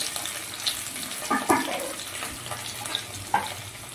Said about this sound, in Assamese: শুকান জলকীয়া আৰু যিখিনি বইল কৰি থোৱা আলু আছিলে সেইখিনি মই ইয়াত অলপ তেলত ফ্ৰাই কৰিম।